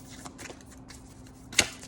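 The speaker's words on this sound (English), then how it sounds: "a whole minute of shuffling just to get a card for you guys." Tarot cards riffle and slide softly in short bursts, ending with one sharper snap, close and fairly quiet.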